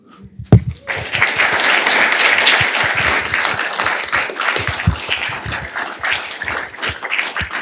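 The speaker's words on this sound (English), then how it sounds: "Can we actually get another round of applause for these two young men?" An audience breaks into sustained applause for two young men after an interview, beginning with a sharp clap or two and then swelling into dense, steady clapping that carries on to the end.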